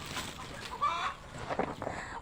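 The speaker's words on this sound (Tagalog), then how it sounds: "Nagalit yung mga inahin." Hens cluck in short, agitated bursts at close range, with a few sharper calls standing out over a busy background.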